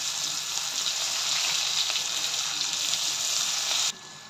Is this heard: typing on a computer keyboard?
no